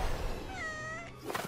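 A giant cartoon cat gives one drawn-out meow that rises and wavers in pitch, loud and close, with a short noisy burst at the end.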